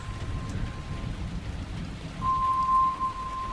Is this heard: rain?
yes